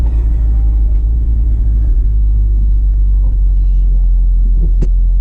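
A 2018 Chevrolet Camaro 1LE with low mileage, heard from inside while racing on track, gives a loud, steady, deep engine rumble and drone throughout.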